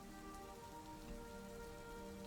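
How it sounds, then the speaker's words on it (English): Heavy rain pours in a dense, continuous wash of patter on surfaces, steady and enveloping with no voices. "And the rain gets heavier"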